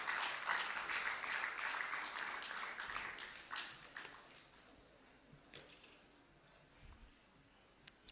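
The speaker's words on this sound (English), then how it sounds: "A round of applause, please." Conference audience of insurance professionals clapping, a fairly full round of applause for a few seconds that gradually thins into scattered claps and quiet room noise.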